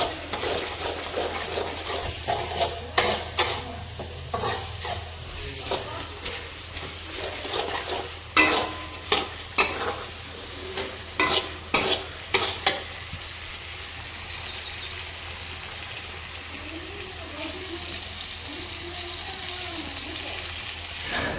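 Bottle gourd halwa stirred in a pan with sugar and milk, a spoon scraping in bursts of sharp clicks and knocks at close range over a soft steady simmer, ending in a gentle hiss.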